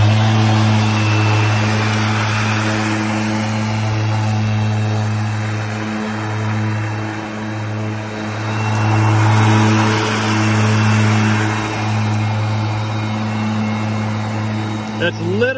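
A Ryobi 80V brushless zero-turn riding lawn mower runs with a loud, steady electric hum and whine, its tone swelling and easing as it moves, with people talking over it.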